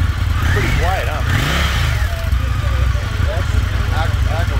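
An Indian motorcycle engine idles with a low, steady rumble through the production exhaust, while people talk over it close by at a dealership.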